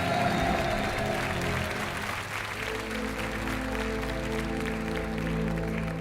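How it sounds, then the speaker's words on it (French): A game show studio audience applauds steadily, a dense wash of clapping that holds at full strength while music plays underneath. "On vous laisse partir sous les applaudissements."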